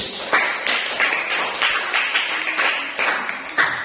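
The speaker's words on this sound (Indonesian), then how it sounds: "Jadi kita beri aplaus untuk nomor satu." Applause for the first group of teachers after their presentation in a classroom performance assessment, steady dense clapping from a small crowd, fairly close and continuous with a few sharper louder claps standing out.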